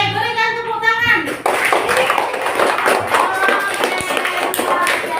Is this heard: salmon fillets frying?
no